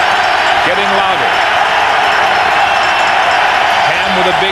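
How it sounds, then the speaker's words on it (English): Stadium crowd at a 1998 CFL Eastern Final football game between the Montreal Alouettes and Hamilton Tiger-Cats, a steady broad roar of cheering that holds at full level throughout, with a commentator speaking over it. "Crowd getting louder."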